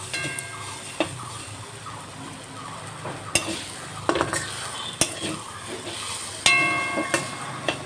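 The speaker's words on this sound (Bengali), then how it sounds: "ম্যাগিগুলো দিয়ে ভালো করে নেড়ে চেড়ে কিছুক্ষণ ভেজে নেব" Boiled Maggi noodles stirred and fried in a pan, with continuous sizzling broken by sharp ladle knocks and scrapes against the metal at irregular intervals, close and fairly loud, without speech.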